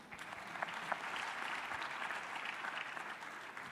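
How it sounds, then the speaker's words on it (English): Audience clapping in a round of applause at a youth spotlight event on the AU and AfDB, a dense, even patter of many hands heard from a distance, fairly quiet and sustained. "can we give them a round of applause?"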